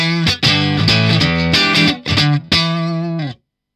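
An electric guitar played through a Marshall CODE 100H amp model, loud distorted chords struck in short repeated bursts with brief gaps, ending in abrupt silence.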